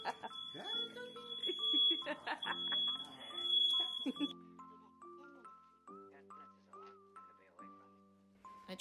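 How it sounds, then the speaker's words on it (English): Smoke detectors sound a steady high-pitched tone for about four seconds while hamburgers are being cooked at home, with voices and melodic tones mixed in. "She stopped those smoke detectors from chirping"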